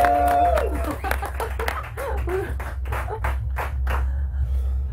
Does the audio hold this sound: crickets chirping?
no